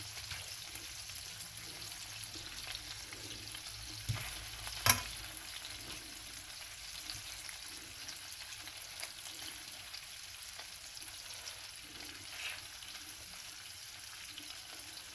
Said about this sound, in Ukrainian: От ми якраз жаримо скільки, скільки воно повинно жаритися.